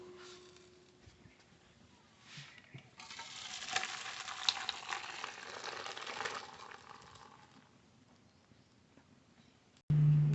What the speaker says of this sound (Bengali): ডালের জন্য ফোড়ন করে নেব সরষের তেল, দুটো শুকনো লঙ্কা